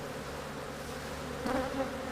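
Honeybees buzzing during a hive split, a steady low drone of many bees close by, faint and continuous with a slight swell near the end, no voices.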